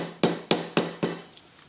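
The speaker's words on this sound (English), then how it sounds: "Use the handle of my hammer. I'm just really lightly tapping." A hammer handle taps lightly on a gearbox bearing of a 1995 Enfield Bullet, four evenly spaced sharp knocks with quick decays, then a fainter fifth tap, close and clear with no talk.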